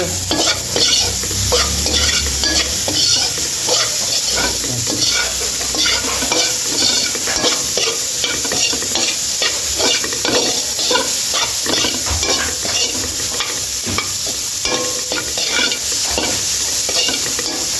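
Finely chopped tomato is stirred and fried in a pan, a loud, busy sizzle broken by constant rhythmic scraping strokes of a spoon against the metal, close and without speech.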